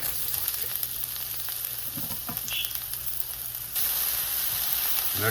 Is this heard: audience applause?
no